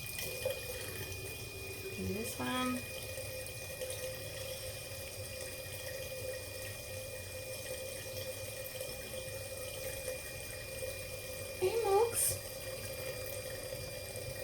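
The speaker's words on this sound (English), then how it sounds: "I've left the tap on" A sink tap runs continuously, producing a steady, soft hiss of flowing water. A voice speaks briefly over it.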